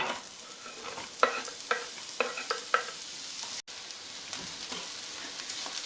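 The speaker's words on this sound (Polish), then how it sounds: "na masełku po smażeniu kurek przesmażę teraz cebulę." Quiet, steady sizzle of onion frying in butter in a pan, with several sharp stirring clicks and scrapes near the start.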